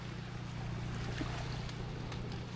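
A boat engine drones steadily with low constant rumble on the Palawan underground river in the Philippines, mixed with water wash and wind, close and continuous without talk.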